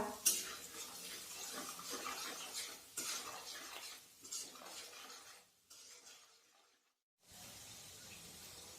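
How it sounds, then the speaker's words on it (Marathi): A spoon scrapes and stirs a dry spice mix of red chilli powder, turmeric and salt in a pan, in bursts of gritty scraping with brief pauses and a near-silent gap before it resumes. "हळद, मीठ, आता आपण हे छान मिक्स करूया।"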